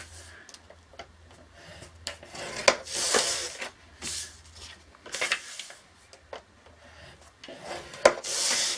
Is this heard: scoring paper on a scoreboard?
yes